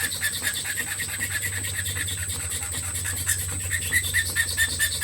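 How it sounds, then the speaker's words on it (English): Steady rasping scratch of a hand file working across wood, smoothing up to the edges of drilled holes in an inlay pattern, close and rhythmic with repeated strokes throughout. "we're just going to file our way up to the edge of those drilled holes"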